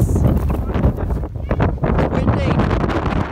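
Strong wind buffets the microphone in a continuous, loud rumble with gusty surges throughout.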